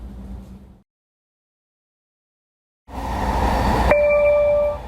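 A SkyTrain on the Expo Line runs with a rumbling rolling noise that cuts out into near silence, then surges back loud with a rising electric motor whine and a steady tonal hum.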